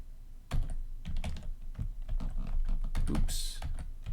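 Rapid clicking keystrokes on a computer keyboard, close and fairly loud, with a brief burst of hiss partway through.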